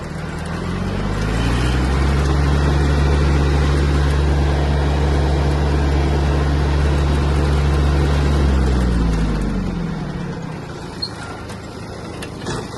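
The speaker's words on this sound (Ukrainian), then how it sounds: "Трактор майже миттєво набрав свою максимальну швидкість." A Kubota A-195 Japanese mini tractor drives at its top speed, its diesel engine a loud, steady low drone with a strong rumbling hum that holds for about nine seconds before easing off and fading toward the end.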